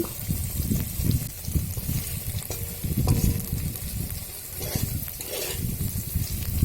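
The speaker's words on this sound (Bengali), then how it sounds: "পনিরগুলি হলুদ লবণ দিয়ে ভালো করে হালকা হাতে আমি ভেজে নিচ্ছি" Paneer cubes coated with turmeric and salt fry in a pan with a loud, bubbling crackle and occasional stirring scrapes, continuous and near, with no talking.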